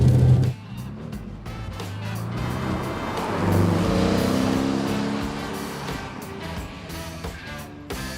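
2016 Porsche 718 Boxster engine giving a steady, monotone blare while driving, a continuous droning note that swells slightly in the middle before settling, with road and tyre noise underneath.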